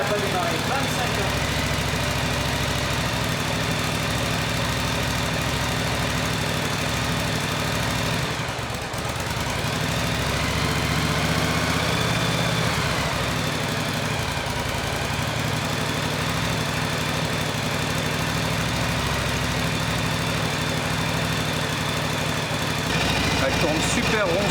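A Yamaha TR1 motorcycle engine runs steadily after sitting 25 years, a loud, continuous idle with a smooth, even rumble that holds for the whole stretch, a brief dip midway, and speech over it.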